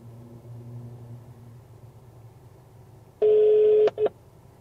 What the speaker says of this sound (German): Jens Stratmann wird angerufen.